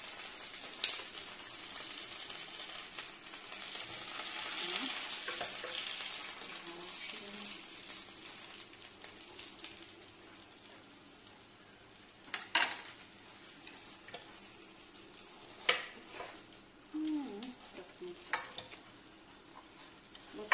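Soft, steady sizzling of food frying in a pan, with occasional sharper clinks and scrapes of a utensil against the pan.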